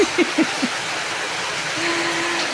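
Heavy rain pours down as a steady, dense hiss under a dark sky, with a few faint brief tones early on and a low hum joining near the end.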